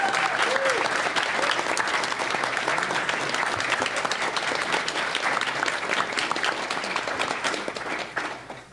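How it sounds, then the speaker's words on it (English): A convention audience at a pony fan event breaks into sustained, dense applause, loud and steady for several seconds before tapering off at the end. "Please give these guys a round of applause."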